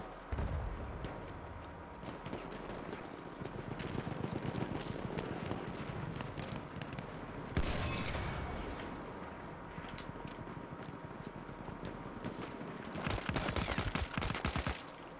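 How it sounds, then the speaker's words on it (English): Gunfire in the Battlefield 1 beta, a dense stretch of rapid shots and bursts with louder sharp cracks near the middle and toward the end, sounding near and steady, with no talk over it. "I'm being shot by a sniper"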